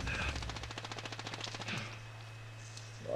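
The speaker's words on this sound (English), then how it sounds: "There's no way he can fucking shoot me through that shit." Rapid automatic gunfire from the video game Call of Duty: Warzone rattles in a fast, even burst for about a second and a half, followed by a few scattered shots and quieter game ambience.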